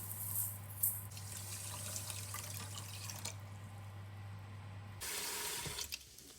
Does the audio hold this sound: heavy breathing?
no